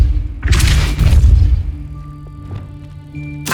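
A Depulso spell blast in Hogwarts Legacy goes off as a loud, roaring burst lasting about a second, then fades into a quieter humming, tonal game background with faint clicks.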